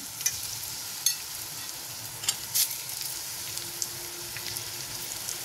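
Oil heats and fries in a non-stick pan, a steady close hiss and crackle with a few sharper pops and spits scattered through.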